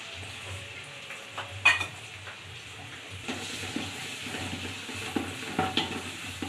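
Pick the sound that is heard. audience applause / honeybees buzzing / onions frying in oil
onions frying in oil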